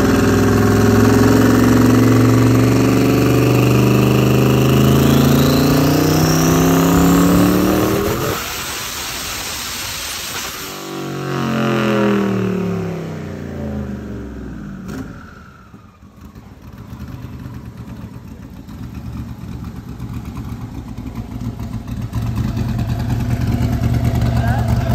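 A Ford Mustang-style V8 is not stated, so: an engine run hard on a dyno, a loud sustained rising roar with harmonic sweeps that cuts off and drops back, then a steady idle rumble under brief talk.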